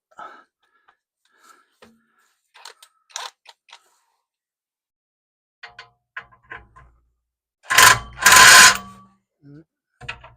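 An air impact wrench works at 13 mm nuts and bolts while a Maserati 4200 engine is dropped without a lift. Scattered clicks and tool handling come first, then two loud, close hammering bursts of about a second.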